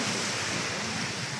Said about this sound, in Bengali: ঢেউটা আসছে, ঢেউটা দেখেন জাস্ট।